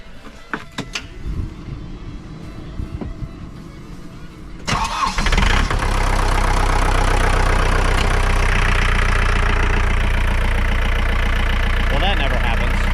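A John Deere 4320 tractor needing its fuel line bled cranks briefly and catches, its diesel engine then settling into a loud, steady idle that fills the rest of the clip.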